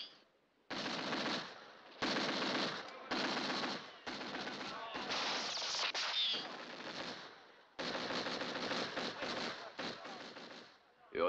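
Bursts of machine gun fire in a western film, several long loud volleys separated by short pauses, with a continuous rattle for about ten seconds.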